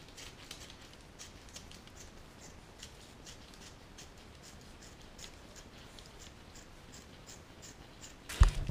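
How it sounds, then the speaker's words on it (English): Close, quiet snipping and scraping of scissors or a blade cutting along the top edge of an ice fishing tent being converted into a winter tent, a steady run of small cuts ending in a louder handling thump. "Now we got to cut along this top edge here."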